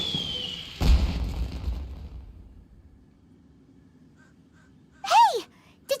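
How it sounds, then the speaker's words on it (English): An explosion in the Genshin Impact video game: one sudden booming blast near the start that rolls into a fading low rumble, followed by quiet and a brief high chirping sweep near the end. "Did you hear that explosion?"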